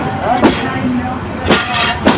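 A train rolls directly through a busy market in Bangladesh on a rough, poorly maintained section of track, with sharp periodic clanks and rattles over a steady rumbling drone, loud and close.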